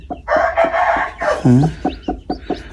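Close, repeated hen clucks in a choppy rhythm, with a rooster's short crow breaking in midway.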